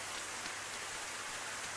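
Steady rain falls in a visual novel video game, an even, continuous patter of drops on surfaces with no voices over it.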